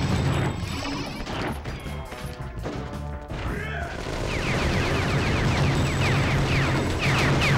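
Rocket launcher fire in the PS2 game Gungrave erupts in dense, loud crashes and blasts, with rapid gunfire bursts and a sustained roar of explosions filling the later seconds over a busy game soundtrack.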